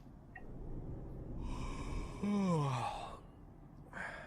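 A truck driver character in Euro Truck Simulator 2 gives a long, drawn-out yawn with a falling pitch, heard over a steady low engine hum inside the cab.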